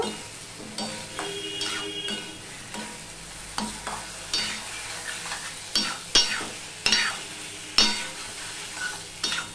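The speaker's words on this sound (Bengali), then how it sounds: "এবার এর মধ্যে এই আলুগুলো আমি দিয়ে দিলাম, দিয়ে ভালো করে মিশিয়ে একটুখানি কষিয়ে নেব।" Potatoes get stirred and sautéed in a pan for a vegetarian curry, a quiet sizzle beneath repeated spatula scrapes and sharp clinks against the pan, with no voices.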